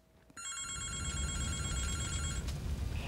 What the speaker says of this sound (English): You just know that the phone is ringing for a bad reason.